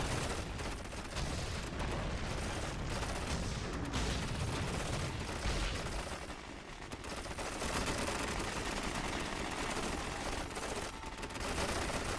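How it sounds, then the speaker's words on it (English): Gatling guns firing in the strategy game Paraworld during a 3v3 multiplayer battle, a dense continuous rattle of rapid gunfire with bursts and booms layered over one another, loud and sustained for the whole stretch. "the Gatling guns actually have little bullets that shoot out of them now"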